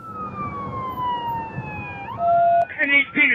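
Fire trucks and ambulances speed past with their sirens on. A loud, nearby wail slides slowly downward, then gives way to sharper, choppy yelp bursts near the end.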